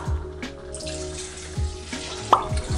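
Broth poured into a pressure cooker holding creamy kaldereta, a close, steady liquid splash and trickle with a few small clinks, no talking.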